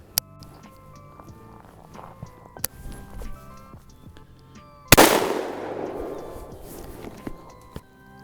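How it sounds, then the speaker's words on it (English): A Stoeger Uplander side-by-side shotgun fires a single 2 3/4 inch number 6 low-brass lead shell outdoors. One sharp, loud blast rings out midway with a long fading tail, after quiet shuffling and small handling clicks. "we have a 2 3/4 inch number 6 lead shot with a low brass"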